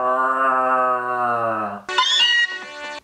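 A person imitates a cat's meow, drawing out one long, nasal, wavering mew, then a sharper, higher-pitched meow, loud and close with no other sounds.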